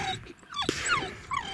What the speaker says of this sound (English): Funny little dog, isn't he?